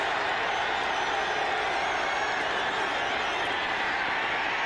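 Steady roar of a football stadium crowd at a 1993 Falcons game on third down, a dense continuous wash of cheering with no breaks throughout.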